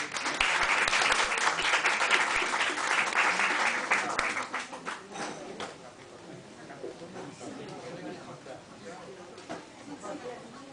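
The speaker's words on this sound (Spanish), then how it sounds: "un aplauso para ellos" An audience at a café poetry reading claps loudly for about four seconds, then the applause thins into scattered claps and quiet chatter as it fades.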